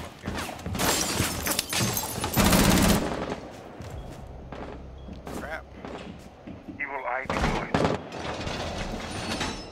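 Bursts of automatic gunfire crackle in a Rainbow Six Siege team deathmatch bomb round on the Chalet map, loud bursts recurring through the stretch while a voice talks over the action.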